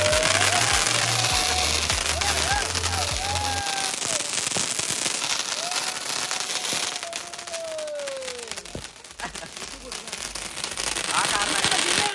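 Firecrackers crackle and pop in rapid bursts while fireworks whistle upward at a birthday celebration, with people talking nearby through the noisy display.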